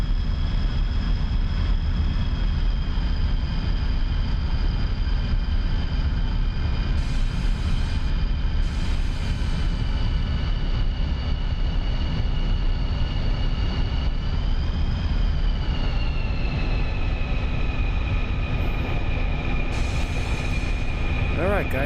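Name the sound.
MiG-21 jet aircraft flying, from the video game DCS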